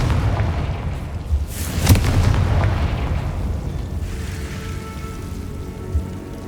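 A Confringo fire spell explodes in Hogwarts Legacy, a single loud blast followed by a rumbling, crackling tail that slowly fades over a low background.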